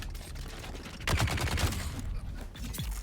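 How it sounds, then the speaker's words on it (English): A heavy machine gunner in Dune Awakening opens fire, a rapid burst of loud, close automatic shots that swells midway over steady background battle noise, then settles back. "The heavy machine gunner can easily break."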